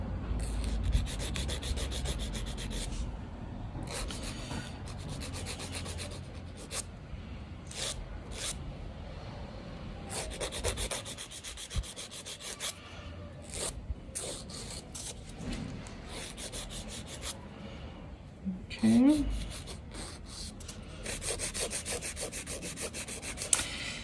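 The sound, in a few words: filing fingernails with a 180/240 grit nail file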